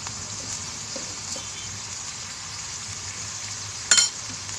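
Pork sizzles steadily in its own rendered fat in a pan, a soft continuous crackle with a brief louder clatter near the end; no one speaks.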